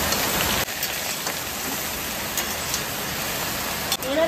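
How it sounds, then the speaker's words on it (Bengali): Heavy rain pours steadily and close by during monsoon weather, a dense, even hiss that holds throughout with no voices over it. "আর এদিকে জোরদার বৃষ্টিও শুরু হয়ে গেছে।"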